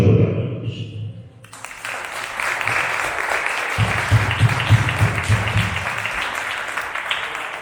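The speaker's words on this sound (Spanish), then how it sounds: "Un fuerte aplauso para todos." An audience at a diabetes gastronomy event applauds: a dense, sustained wash of clapping that swells in after a brief pause and carries on evenly, with a low voice murmuring beneath it.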